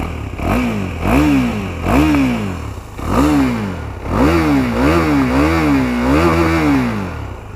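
Engine of a 2018 KTM Duke 390 motorcycle, just started, runs loud and close, with repeated throttle blips rising and falling in pitch over a steady, throbbing single-cylinder idle.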